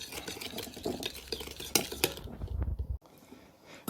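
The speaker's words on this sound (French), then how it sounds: "Je touille." Mussels stirred in a seasoning mixture in a pot: close scraping and clinking of a utensil against the dish, steady at first and then fading, with no talking.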